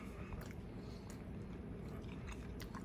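Biting and chewing a toasted hot dog in a bun warmed in a Nostalgia two-slot hot dog and bun toaster, with a steady close-up run of soft crunchy, moist mouth sounds and no talking.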